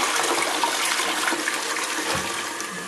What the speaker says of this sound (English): I can have two options and I can press the larger flush.